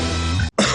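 Two short, harsh coughs from a person, close and loud, the first longer and rasping, then a brief pause before a second forceful burst.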